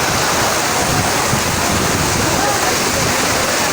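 Torrential floodwater rushes down a main street in Karachi during heavy rain, a loud, steady, broadband roar that continues unbroken throughout.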